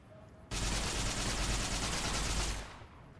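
Sustained automatic gunfire from a gun in the modded video game Fallout New Vegas, a loud continuous burst of rapid shots lasting about two seconds before cutting off.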